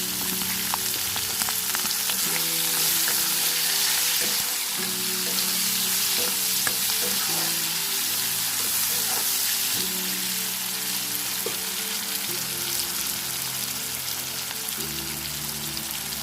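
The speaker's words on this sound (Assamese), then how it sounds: "এতিয়া এইখিনি তেলতে মই অকণমান পাঁচফোৰণ দি দিছোঁ।" Panch phoron spices, chopped onion and three chillies fry in hot oil with a loud, steady, dense sizzle that continues throughout, broken by occasional soft stirring knocks.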